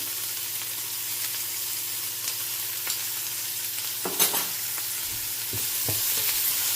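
Onions sauté in hot oil with popped mustard seeds for a Tamil-style black chickpea soup, giving a steady soft sizzle with a few spoon-stirring scrapes toward the end, no talking.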